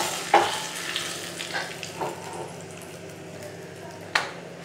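Cumin seeds sizzle steadily in hot oil for a Gujarati kadhi tempering, crackling throughout with a few sharp pops and spoon scrapes, close and moderately loud.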